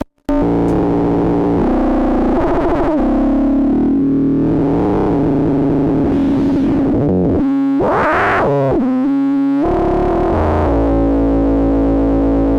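A PO 400 budget modular synth drones continuously, its saw wave frequency-modulated by a sine wave, so the buzzy, distorted tone keeps shifting in timbre with wobbling, clangorous harmonics and brief dropouts. It is loud and close, with no voices.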